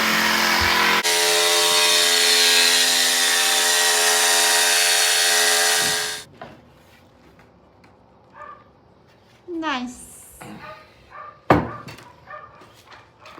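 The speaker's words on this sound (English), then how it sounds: "why I love a good jigsaw" A jigsaw cuts wood inside a horse trailer being converted, a loud steady buzzing whine for several seconds that cuts off, followed by quieter clatters, knocks and a squeak.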